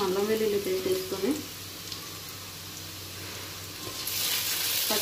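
Onions, green chillies and ginger garlic paste fry in a pan with a soft, steady sizzle, briefly under a voice at the start, then growing louder near the end as more goes in.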